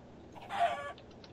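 A single short video-game chicken cluck, fairly faint, stands alone over a low background hum.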